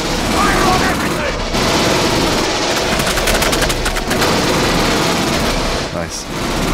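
Sustained automatic gunfire from a video game, Aliens: Colonial Marines, a loud continuous fusillade of rapid shots with bursts layered over battle noise, lasting nearly the whole stretch with a brief dip near the end.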